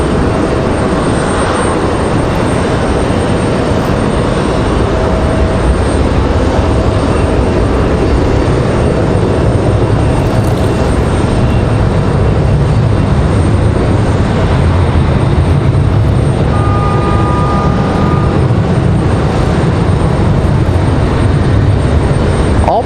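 Southwest airliner jet engines roar steadily at Raleigh Durham airport, a continuous loud, broad rumble that holds throughout, with a brief tonal whine rising near the end.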